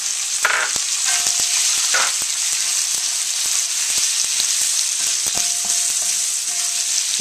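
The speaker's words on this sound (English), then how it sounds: "Then we'll put in our shrimp. The shrimp is going to cook very quickly." Shrimp and pork stir-fry on the highest heat gives a steady loud sizzle with scattered crackles and spatula scrapes, without talk.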